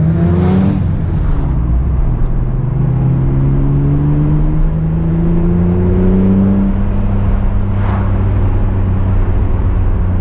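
A Mitsubishi Eclipse drives past loudly and accelerates, its engine note climbing through rising revs over a steady road rumble, near and continuous with no talk.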